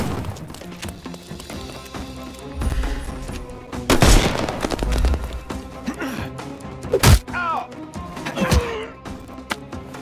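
Gunfire from the Sherlock Holmes video game: a close, loud burst of several sharp shots with thumps and impacts, spread irregularly through the scene.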